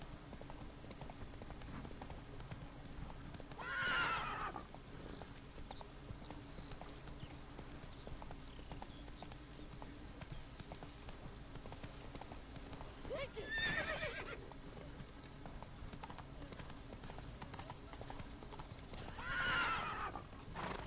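Roach, Geralt's horse in The Witcher video game, lets out three separate whinnies spaced through a steady low background, each rising briefly above the constant hum with a clear neighing quality.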